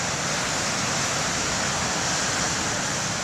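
Waves wash onto the lighthouse beach in a steady, loud roar of surf with no distinct breaks, constant and broadband from start to finish.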